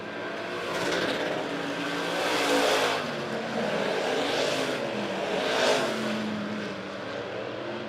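Race cars roaring around the Monett Motor Speedway oval during a heat race, engines swelling in repeated loud passes as the pack sweeps by, with steady engine drone throughout.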